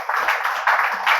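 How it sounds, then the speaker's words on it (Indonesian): A church congregation applauds in a brief, loud burst of clapping. "Kita tepuk tangan dulu untuk Tuhan."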